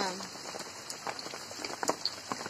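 Steady rain falling in a village during the rainy season, a dense continuous patter on surfaces with scattered louder drips, close and constant throughout.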